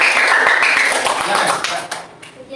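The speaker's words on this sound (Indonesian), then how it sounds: "tepuk tangan untuk kelompok 1" Students in a classroom applaud a presenting group, a dense burst of clapping mixed with voices that thins out toward the end.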